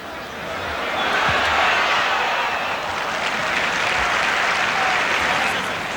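A football stadium crowd cheers and applauds for Bari during a match against AS Roma, a broad, steady roar of clapping and voices at a distance with little variation.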